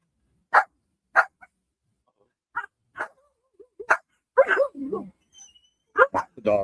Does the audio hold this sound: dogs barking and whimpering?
yes